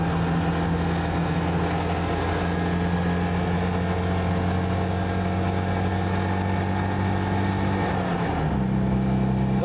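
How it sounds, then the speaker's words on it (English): An air-cooled Citroën 2CV engine drones steadily from inside the cabin while driving, holding a constant pitch before the tone drops as the revs change near the end. "Sorry Ellie, it's all of the revs this morning."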